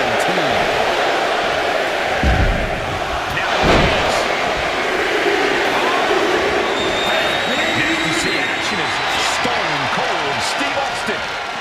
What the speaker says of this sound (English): This crowd's counting down for number 17.